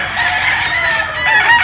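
A yellow-legged hatch gamecock rooster of a Larry Romero line, on a farm in Barangay Talagata, Tanauan, Batangas, crows once, loud and close, with no talk over it.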